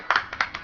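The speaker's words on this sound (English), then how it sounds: "Give him a clap" A few quick hand claps ring out close by in a loose, uneven burst, sharp and bright.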